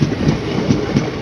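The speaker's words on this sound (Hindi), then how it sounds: "Pilibhit Bareilly city passenger." Pilibhit–Bareilly City passenger train passing close by, a loud continuous rumble with rhythmic clickety-clack of wheels over rail joints.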